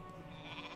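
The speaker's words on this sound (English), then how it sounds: "He sees some sheep over there." A sheep in a Warcraft 3 match gives a faint, brief bleat under dense game ambience and crowd-like noise.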